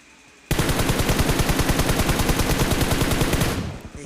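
Sustained automatic gunfire spray in the PUBG Mobile video game, a loud, rapid, evenly pulsed burst of shots that starts abruptly and runs for about three seconds before cutting off, with no talking.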